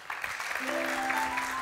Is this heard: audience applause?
yes